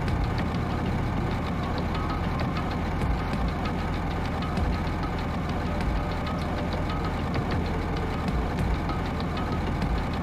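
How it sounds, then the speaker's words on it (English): A truck engine in the Danganronpa 2 video game rumbles steadily at idle, a continuous low throbbing drone with a faint knocking pulse, heard alone without talk. "First thing I noticed was the roaring engine of the nearby truck."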